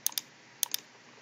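Computer mouse clicking while working in SolidWorks, two quick pairs of crisp, close clicks separated by a short pause, with no talk over them.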